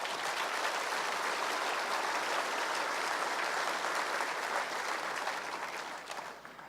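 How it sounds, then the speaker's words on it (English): A large audience at a provincial State of the Province address applauds for several seconds, a dense, even wash of clapping that fades slightly at the end. "one last round of applause for all of them."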